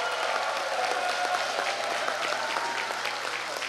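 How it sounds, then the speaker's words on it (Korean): A choir festival audience at a Korea University alumni joint choral event applauding steadily, a full wash of clapping sustained at even loudness from a sizable crowd. "83학번께 또 큰 박수 부탁드리겠습니다"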